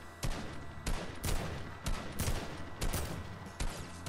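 Bursts of rapid gunfire in the Fortnite video game, several loud volleys fired in quick succession across the clip, with no talking.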